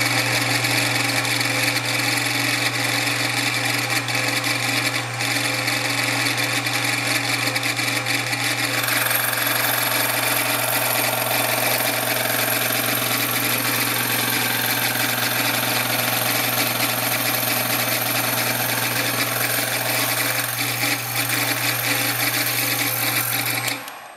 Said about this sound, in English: a slitting saw in the mill. And we're just going to run this through and slit it real quick.